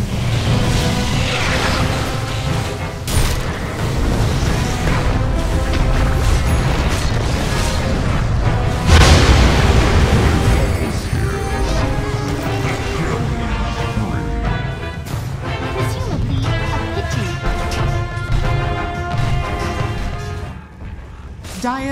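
A busy Dota 2 match with towers under attack sounds like a loud, continuous barrage of booms, crashes and impact effects that surge and fade across the fight, with a voice heard at times over the noise.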